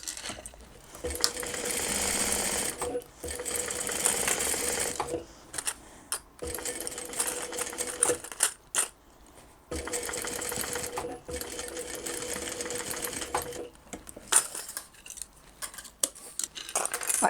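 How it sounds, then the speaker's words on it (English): A sewing machine stitches a seam on a beginner's cross-body purse, running in steady bursts of rapid mechanical whirring with short pauses between runs, close and fairly loud. "we're just going to run our stitch as close as we can"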